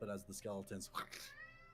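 A house cat meows loudly in a room, two or three drawn-out wavering cries close by, overlapping with a person speaking.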